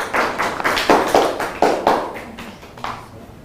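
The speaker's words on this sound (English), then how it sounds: "Let's clap for him." A small audience at a live public speaking academy finale gives scattered, light applause to welcome a guest speaker. The clapping is close and uneven, with distinct individual hand claps that thin out and fade after about three seconds.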